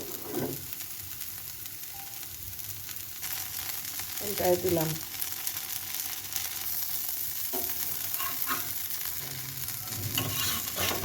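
Pitha rice cakes frying in a pan, a steady soft sizzle with occasional stirring and scraping, close by, and a brief spoken remark over it.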